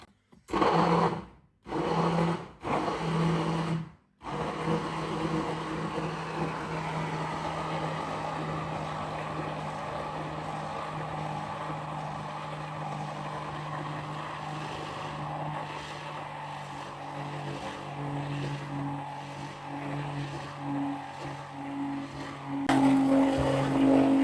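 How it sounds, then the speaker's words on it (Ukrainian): Immersion blender whipping homemade mayonnaise on its first speed, a steady close motor drone with a grinding whir that runs continuously for about twenty seconds after a few short bursts at the start, rising slightly at the end. "Тепер ми можемо полегенько піднімати блендер, але ну, продовжуємо збивати на першій швидкості."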